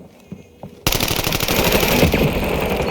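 Rapid automatic gunfire from a gun in Warzone on the Havens Hollow map: a faint shot or two, then a loud sustained burst of fast, evenly spaced shots close up, with no talking.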